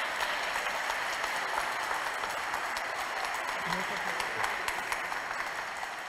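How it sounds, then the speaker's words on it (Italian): A church congregation at a Mass claps to welcome a nun to the front, a dense, even patter of many hands filling the space, with faint murmuring voices underneath. "Vieni, accogliamola con l'applauso."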